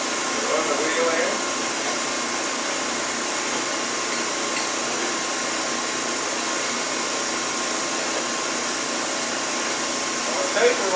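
A grinding wheel runs steadily into a tapered workpiece on a grinder, giving a continuous even whine and hiss with a machine hum underneath, mostly uniform throughout.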